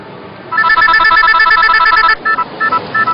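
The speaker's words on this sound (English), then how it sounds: "Your cell phone's ringing." A telephone rings in a rapid trilling electronic pattern, loud and close, in steady bursts and then a few shorter broken pulses, with no voices over it.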